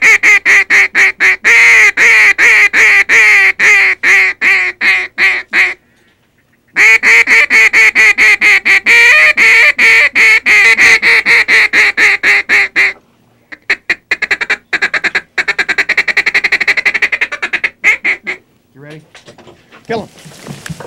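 Ducks quack and honk loudly during a duck hunt, dense bursts of repeated calls close by with a couple of brief quiet gaps, the calling growing choppier toward the end.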